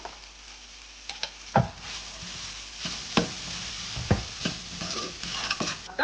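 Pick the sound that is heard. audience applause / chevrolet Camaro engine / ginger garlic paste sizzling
ginger garlic paste sizzling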